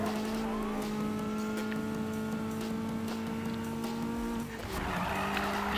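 A car drifts in the Need for Speed video game, its engine holding a steady whine. A sustained tire squeal builds over it and then breaks into a brief scrub and a surge near the end.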